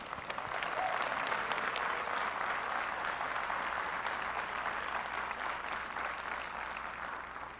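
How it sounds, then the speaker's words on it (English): Large commencement crowd applauding graduates at Morehouse College, a broad, sustained roar of clapping that stays dense and even from start to finish, only easing slightly at the very end. "Will you join me in applauding their achievement?"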